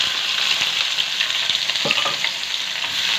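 Chopped onion sizzles steadily in a hot pan while a spoon stirs it, with scraping scrapes and clicks against the pan over a continuous frying hiss, close and fairly loud, no talking.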